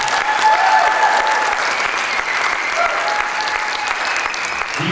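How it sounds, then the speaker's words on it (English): An audience applauds a drumline after its performance at a percussion day event: dense, steady clapping that fills the whole stretch at a constant level with no pauses. "one more round of applause"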